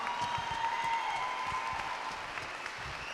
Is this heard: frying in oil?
no